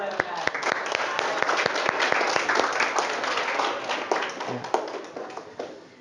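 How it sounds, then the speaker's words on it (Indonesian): Steady applause from a room full of people at a teaching practice session, dense clapping sustained throughout with sharp individual claps standing out, gradually thinning toward the end. "Beri tepuk tangan."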